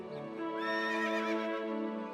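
A horse pulling a cart into a courtyard gives a long, loud whinny up close, rising then trailing off, with faint hoof clatter underneath.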